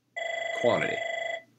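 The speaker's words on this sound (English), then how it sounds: "Oh, that's the phone." A telephone bell rings in a steady, rapid trill, loud and close, while someone briefly speaks a word over the middle of the ring before it stops.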